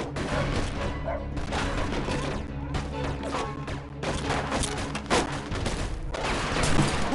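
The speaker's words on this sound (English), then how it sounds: "Looks like we found the machine gun." Machine gun fire in the video game Mafia 2, heard as dense, continuous rattling bursts mixed with other gunshots and booms across the whole stretch, loud and busy.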